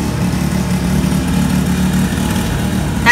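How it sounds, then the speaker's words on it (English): A string trimmer runs outdoors in Hawaii, a steady mid-pitched engine drone holding level for the whole stretch with no talk over it. "That's a weed whacker."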